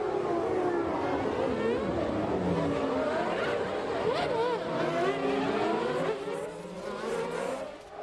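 Early-1990s Formula One cars race on the opening lap at Spa, with a loud, continuous engine roar and rising and falling whines as cars pass close by.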